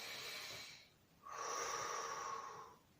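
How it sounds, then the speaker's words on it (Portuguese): One person breathes audibly: a short exhale followed by a longer, slow, deliberate breath lasting over a second, close and fairly quiet, with no speech. "uma respiração mais longa"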